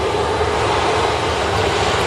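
Airliner engines roar steadily and loudly at Manchester Airport as a Pegasus jet sits lined up on the runway, a broad, continuous rumble with no voices.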